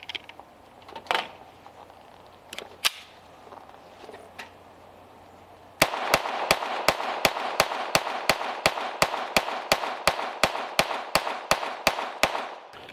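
A Sig Sauer P322 .22LR pistol fires CCI standard velocity 40-grain rounds at a range, a rapid, evenly spaced string of about twenty sharp, loud shots after a few seconds of quiet handling.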